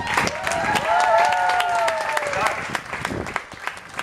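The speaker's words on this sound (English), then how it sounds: "Could you please give the girls one more big round of applause?" A crowd at the Kentucky Horse Park applauds loudly and steadily for a few seconds, with a voice speaking over the clapping before it thins out.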